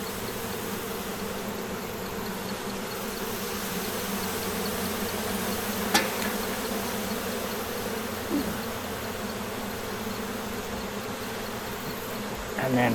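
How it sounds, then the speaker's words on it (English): Honey bees swarm around an opened hive during an inspection, making a dense, steady buzzing drone that stays close and constant throughout, with no voices. "I gotta try and smoke these bees down."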